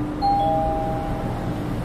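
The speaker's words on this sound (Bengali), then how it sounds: "ঘরের কলিং বেল বাজতেই জেনে গেল" A doorbell rings in a dramatized Bengali audio story, a clear electronic ding held steadily for over a second against a low background hum, with no one talking.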